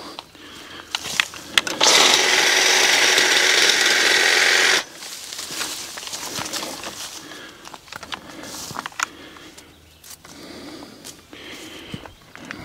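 A Stihl HSA 56 cordless hedge trimmer cutting a hedge, its loud buzzing reciprocating blades running for about three seconds, followed by quieter rustling of branches and scattered snipping and handling sounds.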